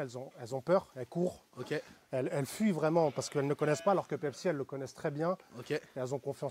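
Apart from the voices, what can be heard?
No distinct noise like a dog, phone or traffic.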